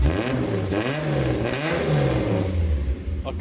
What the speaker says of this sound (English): I want to step on the gas. Here, leave it open. Yeah, so this muffler is adjustable with the valve, so now it's full open.